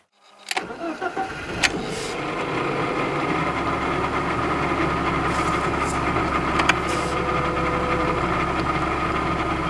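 A BMW E36 engine, fresh from a spark plug replacement after idle problems, cranks briefly, fires and settles into a smooth, steady idle, close and continuous with no talk.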